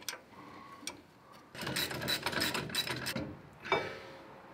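A 10mm wrench undoes a brake line on a Toyota Hilux during a front brake job, giving close metallic ratcheting clicks and scraping clatter in short bursts between quiet pauses.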